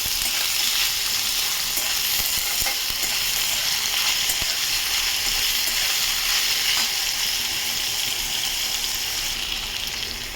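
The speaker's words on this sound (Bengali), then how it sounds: "আলুটা ভালো করে ভেজে নেব।" Finely cut potato frying in a wok with dried red chillies: a loud, continuous hissing sizzle runs unbroken throughout, with faint scattered clicks of the spatula.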